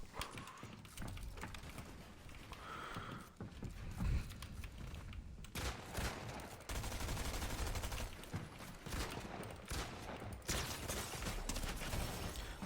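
Gunfire and mechanical clatter in the video game Fortnite during a Halloween 2025 match, loud and dense with bursts of shots and clicks running throughout.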